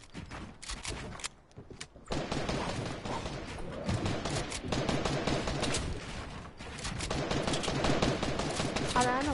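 Video game gunfire crackles in fast, dense bursts, mostly continuous after a quieter opening, mixed with thuds and clatter at moderate loudness while voices talk over it.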